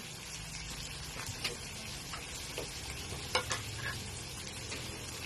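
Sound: red and green peppers added and stir-fried in a pan

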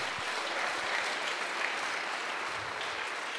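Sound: church congregation applauding

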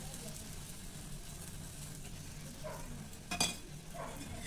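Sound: ghee sizzling on a paratha in a pan

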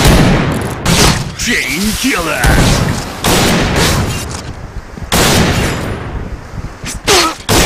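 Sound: sniper rifle gunfire in Point Blank video game

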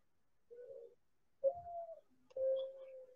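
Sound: mockingbird singing near houses

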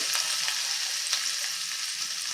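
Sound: garlic sautéing in oil

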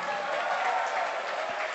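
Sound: audience applause for Kasua Youth Choir

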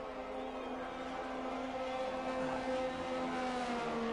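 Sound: race car engines in a Formula 1 video game, Mexico GP

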